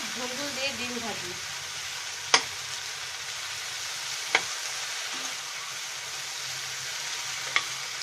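Ridge gourd fries in a pan while being slowly stirred, a steady sizzle throughout with a few sharp spoon knocks against the pan and brief murmurs of talk.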